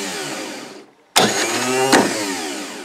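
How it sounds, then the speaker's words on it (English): A car starter motor, bench-tested by bridging the solenoid with a jumper wire, whirs loudly for almost two seconds after a short silence, with a sharp click near the end and no talking. "So by jumping this to this with a jumper wire, it should start this motor up."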